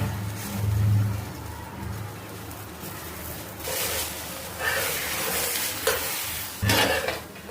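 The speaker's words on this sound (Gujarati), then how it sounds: "હવે આને તળી લઈશું આપણે તેલથી." Cheese paratha fries in hot oil with a steady, close sizzle, broken by several louder bursts of scraping and turning in the pan.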